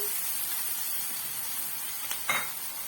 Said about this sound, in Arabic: نحط كل التوابل كده عشان تتحمص وتطلع ريحتها حلوه